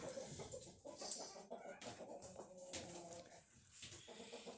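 A single small chicken clucks near a perch, giving short, irregular clucks and soft calls up close, with brief pauses between bursts and faint background noise.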